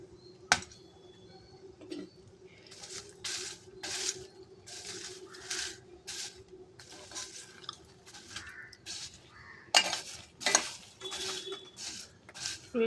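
Ghee-coated popcorn with salt being tossed and stirred in a pan, giving soft scraping, rustling and light clinks of a spoon against metal, moderately close with no talking.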